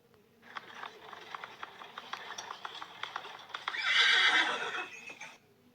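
A horse whinnies loudly near the end, a shrill rising neigh, after a stretch of rhythmic hoof clip-clops and soft movement as it jumps a hurdle.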